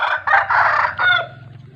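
A rooster gives a short, rough crow in several segments, nearby, over a low steady hum in the background.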